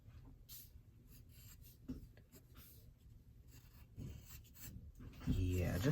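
Pencil drawing on paper, soft scratchy strokes in short irregular bursts, quiet and close, with a louder rubbing patch at the end.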